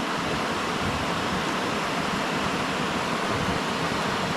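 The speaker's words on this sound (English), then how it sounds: "the rapids are quite noisy in this spot" Rushing river rapids near a forest campsite make a steady, broad roar of churning water, unbroken and moderately loud, with no voices.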